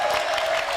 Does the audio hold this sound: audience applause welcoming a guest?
yes